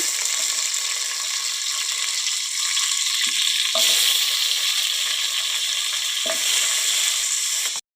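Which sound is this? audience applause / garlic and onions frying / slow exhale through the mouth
garlic and onions frying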